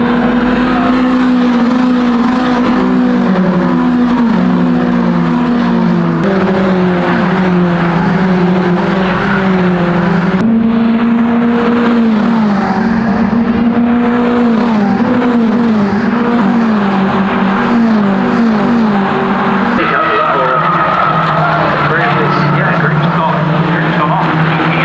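Race cars at a 2023 season race at the track, a continuous loud engine drone rising and falling as cars pass, with occasional tire squeal, cars near and filling the scene.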